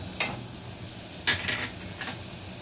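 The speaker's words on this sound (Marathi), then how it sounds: "मसाले व्यवस्थित तेलामध्ये परतून घ्यायचे आहेत।" Ginger-garlic paste with turmeric, coriander powder, garam masala and homemade masala frying in oil for chana masala, a low steady sizzle broken by three sharp scraping stirs of the spoon against the pan.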